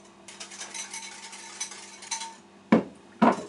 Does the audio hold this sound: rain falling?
no